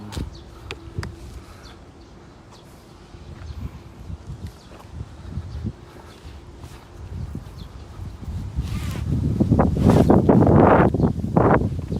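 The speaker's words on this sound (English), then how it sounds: "oh, that's windy" Gusting wind in Utsubo Park, Osaka, rumbles across the microphone, building to a loud, buffeting roar toward the end.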